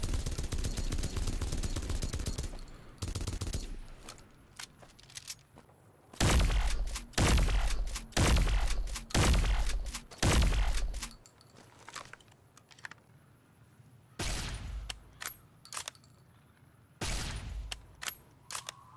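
Modded laser weapons from Fallout New Vegas fire in loud, sharp bursts: a dense opening volley, then five or six evenly spaced heavy shots, followed by a few scattered blasts, with no talking.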